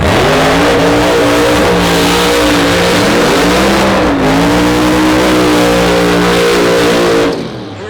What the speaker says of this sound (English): Beautiful, beautiful, beautiful burnouts in the beautiful light, sunlight.